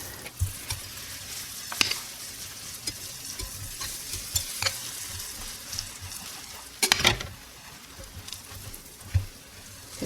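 A Reuben sandwich frying in butter in a skillet, with a soft, steady sizzle and occasional scrapes and taps of a spatula against the pan, one louder scraping burst near the end, with no speech.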